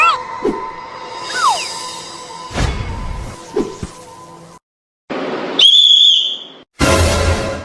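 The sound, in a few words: whistle being blown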